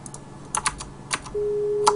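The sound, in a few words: phone call busy signal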